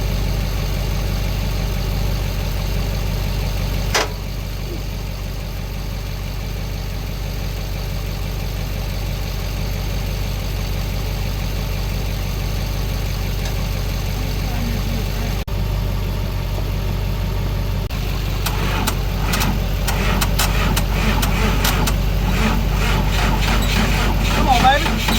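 A Timberjack 450C skidder that had sat unused since 2007 runs after a jump start from two trucks, a loud steady engine rumble throughout that grows rougher and more rattling near the end, with people talking over it.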